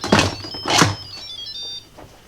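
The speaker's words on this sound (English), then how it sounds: "Put our lid on." Two solid clunks of a lid being set and fitted onto an Instant Pot pressure cooker, followed by a faint metallic ring fading out.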